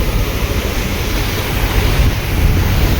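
Water churns and rushes in the wake behind a boat's wheel, a loud, steady broadband wash with a low rumble underneath and no voices.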